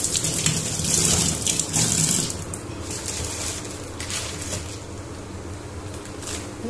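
Running tap water splashes steadily over a grocery packet being rinsed clean, a broadband gushing wash that is loudest at first and then settles to a slightly softer continuous stream, with no voices.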